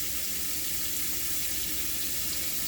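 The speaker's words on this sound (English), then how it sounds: "you're gonna fill it to cover the meat with water" Water gushes steadily from a tap into a big pot holding corned beef and spices, a constant close hiss with no talk over it.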